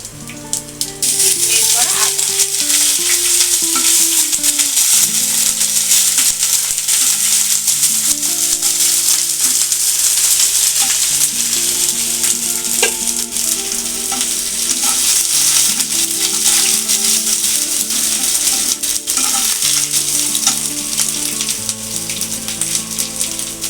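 Two bay leaves, two dried red chillies, cinnamon and panch phoron frying in hot oil: a loud, close, continuous sizzle and crackle that holds steady the whole time.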